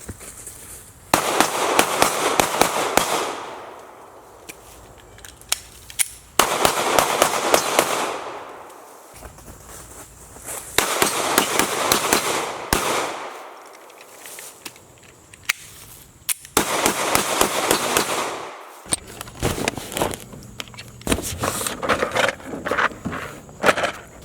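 A 9mm Glock 43 pistol is fired at a range in several rapid strings of loud, sharp shots with brief pauses between bursts, echoing outdoors.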